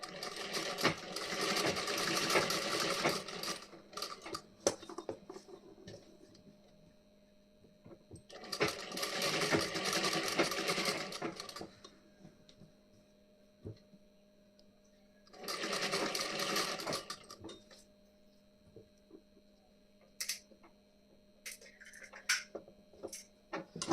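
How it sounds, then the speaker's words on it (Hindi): Sewing machine doing a basting stitch on a blouse neck, three separate runs of rapid whirring with quiet handling sounds between them. "ऐसे हमें यहाँ पे कच्ची सिलाई लगा देनी है"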